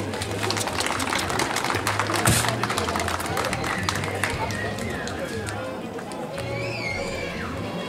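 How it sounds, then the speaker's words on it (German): A kids' event at an outdoor market, where an audience gives a steady round of scattered clapping for a child rider. The clapping runs throughout, with some chatter and a few brief whistle-like tones. "Und wieder Applaus für die Sarah."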